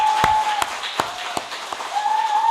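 Scattered clapping from a church congregation at a New Year's Eve service, sparse individual claps spaced irregularly with a faint tone lingering underneath.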